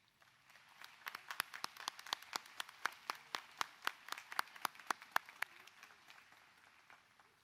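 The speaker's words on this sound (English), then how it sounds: "Will you please give them a round of applause?" Faint, distant clapping from a college commencement audience honoring administrative staff, a sparse run of separate claps that builds, holds for a few seconds and fades away.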